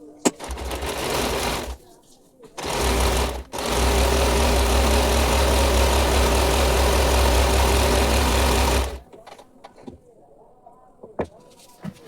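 Sewing machine stitching a salwar: a short whirring run, then a longer steady mechanical stitching hum with rapid rhythmic thumping, close and loud, stopping abruptly, with a brief pause between bursts.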